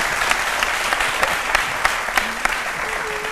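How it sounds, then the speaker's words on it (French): Studio audience on a TV talk show set applauding a guest, steady clapping from a crowd with a few sharper individual claps standing out. "On va l'applaudir très fort."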